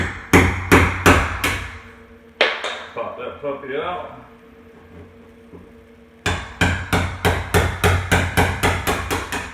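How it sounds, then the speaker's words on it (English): Rapid, sharp hammer blows drive a chisel into wood, ringing out in quick bursts, pausing while someone talks briefly, then resuming in a steady, loud series. "grab a chisel and a hammer."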